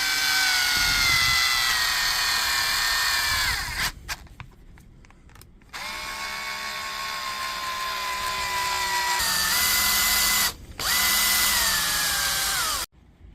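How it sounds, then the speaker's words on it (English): A cordless power driver whirs in long steady high-pitched runs as screws go back into a Metabo battery tool's housing, pausing briefly between screws, close and loud with no talking. "Just time to put the screws back in again."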